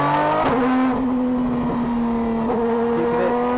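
An Aston Martin DBR9 race car powers out of a corner on a damp Paul Ricard circuit, its engine a loud, close, steady howl with a few brief tyre and gear blips.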